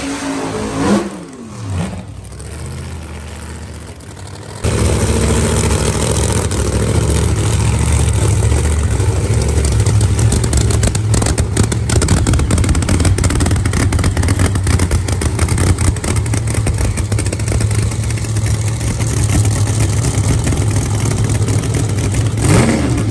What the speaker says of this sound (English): we'll actually put a video in here right now of the same kind of motor that we're gonna be purchasing